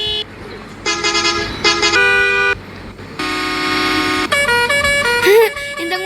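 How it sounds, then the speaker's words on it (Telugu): Car horn options in the video game Indian Theft Auto, heard as several loud, sustained electronic honks of differing pitch, sounded one after another with short gaps between them. "సెకండ్ హార్న్ అయితే నేను కన్ఫర్మ్ చేసేసిన."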